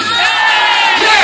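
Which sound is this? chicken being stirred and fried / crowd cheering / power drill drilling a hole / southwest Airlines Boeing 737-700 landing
crowd cheering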